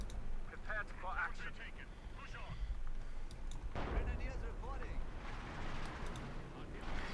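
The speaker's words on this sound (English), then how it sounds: "That's a lot of artillery." Artillery and howitzer fire in the video game Company of Heroes 2 thuds in low, rumbling booms amid battle clatter, heard under steady commentary talk.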